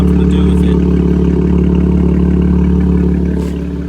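A 2019 Chevrolet Camaro RS fitted with an MBRP exhaust idles loud and close after start-up, with a deep steady droning burble that eases off slightly at the end.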